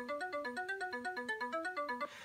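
A famous tracker module, its first pattern played back in VividTracker: a bright, synthetic melodic line of quick repeating notes in a bouncy, steady rhythm, clean and alone without any talk.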